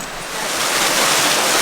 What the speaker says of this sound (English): This is the first waterfall, the base of the first waterfall.